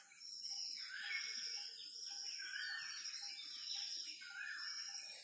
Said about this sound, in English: What I like about listening to the birds is a way of meditation.